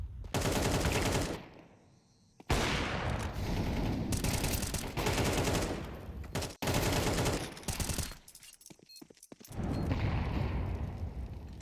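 Counter-Strike gunfire comes in loud, dense automatic bursts close up, breaking off into short pauses and then starting again, with no voices over it.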